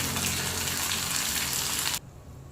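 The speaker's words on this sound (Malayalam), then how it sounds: "ഒരു ഉണക്കമുളക്, കറിവേപ്പില, നന്നായിട്ടൊന്ന് മൂപ്പിച്ച്" Dried red chilli and curry leaves fry in hot oil for a tempering, a dense, loud crackling sizzle that continues for about two seconds, then cuts off abruptly to near silence.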